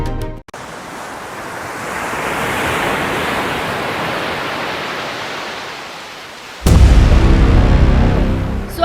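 Sea waves at Kanyakumari, on the shore near a rocky island, roar in a steady broad wash that swells and eases, then a louder close surge with wind buffeting the microphone.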